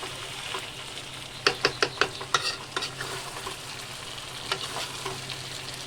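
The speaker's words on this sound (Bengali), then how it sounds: "আলুটা দিয়ে আরেকটু কষিয়ে নেব।" Meat with potatoes sautés in oil in a pan: a steady low sizzle under a quick run of stirring and scraping taps, then a few more later on.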